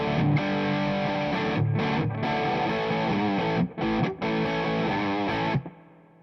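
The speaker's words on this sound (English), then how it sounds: "Add a little bit of distortion, because now we're actually in proper territory." PRS SE CHLEO electric guitar with humbucker pickups played through distortion: loud, sustained chords ringing close, with a few brief gaps before fading into ringing sustain at the end.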